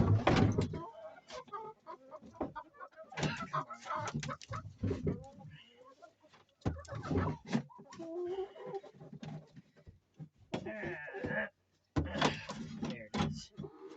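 Chickens clucking and calling on a farm, a busy mix of near bursts and overlapping fowl noises, with a voice talking briefly among them.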